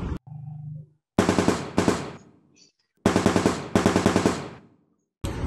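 Machine-gun fire from a replayed film scene crackles in loud rapid bursts, each volley a string of sharp shots, separated by short gaps with a brief low tone early on.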